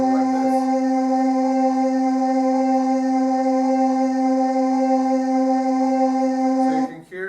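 A looping sampled synthesizer voice played dry with no reverb holds one steady, harmonically rich tone for about seven seconds, then cuts off abruptly near the end. There is no talking.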